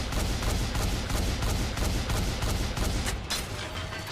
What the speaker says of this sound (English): is she a rapid fire rocket launcher?